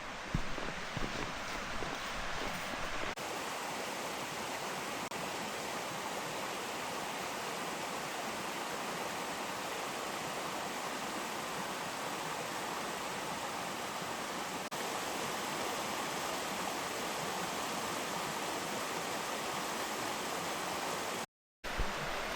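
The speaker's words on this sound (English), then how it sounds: "You hear the creek." Steady broadband rushing of Hemlock Creek flowing along the Ice Age Trail near Birchwood, Wisconsin, a continuous even wash of water with no talking.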